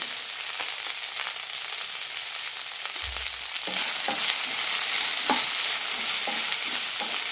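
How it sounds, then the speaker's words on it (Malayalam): Okra (lady's finger) sautés in a pan with a teaspoon of oil and a little salt, giving a steady soft sizzle broken by several scraping stirs, close and without any voices. "വെണ്ടയ്ക്ക് നന്നായി ഒന്ന് വാട്ടിയെടുക്കാം കുറച്ച് ഉപ്പ് കൂടി ഇട്ട് കൊടുക്കാം"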